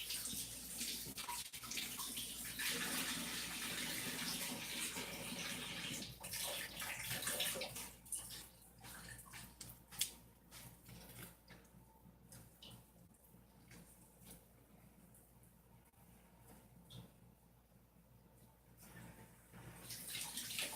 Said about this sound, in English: if you can hear water running in the background